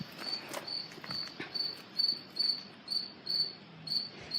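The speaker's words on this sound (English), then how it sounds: "There's crickets in here." Crickets chirp in steady, evenly spaced bursts inside an indoor space, with faint rustling and scattered small noises underneath and no one speaking.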